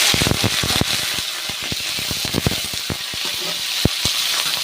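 Spices crackle and spit in hot oil for tempering, after eggplant has been fried, making dense irregular pops over a continuous close sizzle, with no talking.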